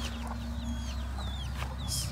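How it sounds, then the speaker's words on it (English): A few backyard chickens cluck and chirp softly nearby, with short repeated calls over a quiet steady hum. "And then I've just got a few chickens in here."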